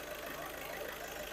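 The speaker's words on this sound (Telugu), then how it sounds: "ఇంజన్ యొక్క నాయిస్ చాలా స్మూత్గా ఉంది" A 2014 Volkswagen Polo Comfortline idling, a faint steady low engine hum with no clear revving, heard alone for a brief moment.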